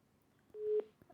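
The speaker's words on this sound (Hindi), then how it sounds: "तो फिलहाल उमेश कुमार का फोन डिस्कनेक्ट हो गया है।" A telephone busy tone follows a disconnected call, a single short electronic beep sounding once, clear but quiet, with near silence around it.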